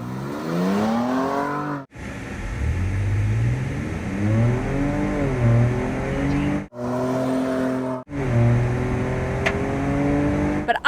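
A Ford Ranger Raptor with Process West modifications accelerating hard on a timed Dragy run, its engine climbing loudly through the gears with sharp pauses at each shift, close and steady.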